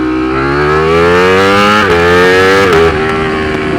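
A Ducati Streetfighter V4 motorcycle engine revs hard in first gear, loud and close, its tone climbing in a long sustained pull with a brief dip before a second surge near the end.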